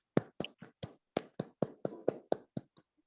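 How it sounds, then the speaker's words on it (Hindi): Crisp hand claps in a steady, even rhythm, about a dozen in three seconds, close and clear with no other sound. "बहुत सुंदर तालियां।"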